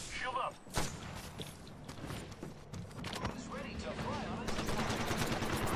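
Gunfire in the battle royale shooter Apex Legends, with repeated rapid shots and bursts across the clip mixed with game effects and voices.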